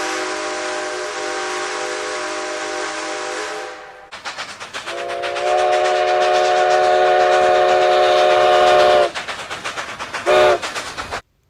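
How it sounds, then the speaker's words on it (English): A steam locomotive whistle in the Red Dead Redemption video game, modeled on Rio Grande No. 484's slightly lower-pitched whistle, sounds one long, loud blast over steady rolling train noise and ends with a short toot. "the whistle was changed to Rio Grande No. 484's whistle, with a slightly lower pitch"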